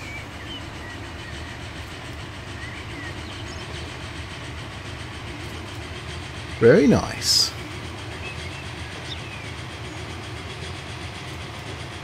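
A slow-moving train in the Transport Fever 2 video game, a steady low rumbling drone with a faint metallic rattle running throughout, with brief spoken words from a man partway through.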